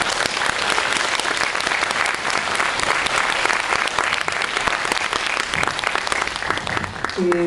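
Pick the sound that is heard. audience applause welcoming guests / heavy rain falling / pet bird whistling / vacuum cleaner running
audience applause welcoming guests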